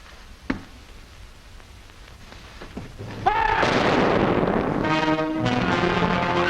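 A single gunshot in a World War II-era Army Air Forces interrogation training film: one sharp crack near the start, then a steady noisy roar with a raised voice over it.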